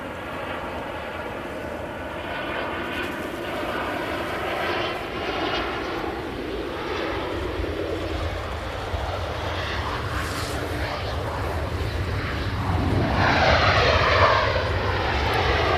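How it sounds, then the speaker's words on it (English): Ryanair Boeing 737 jet arriving from Milan at Manchester Airport, a broad roaring engine rumble with shifting whine that swells louder toward the end as the aircraft passes nearby. "So that Ryanair 737 was in from Milan."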